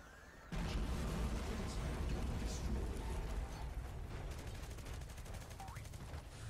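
A sudden loud blast in the Renegade X video game opens into a sustained roaring rumble, followed by rapid crackling bursts like gunfire that keep going to the end.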